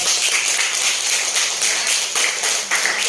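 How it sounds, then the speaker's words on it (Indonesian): A classroom of students claps for their classmates, a dense, continuous patter of applause lasting a few seconds with no talking over it. "Iya, tepuk tangan buat teman-teman"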